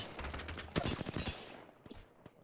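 Rapid bursts of enemy gunfire from several opponents in an Apex Legends-style shooter, a dense volley of shots crackling close and loud, then thinning into scattered single shots.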